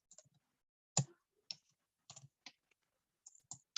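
Quiet, sparse typing on a computer keyboard, a few separate soft clicks and taps spaced irregularly in a silent room.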